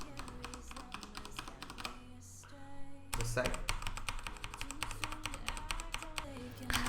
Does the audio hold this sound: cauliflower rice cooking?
no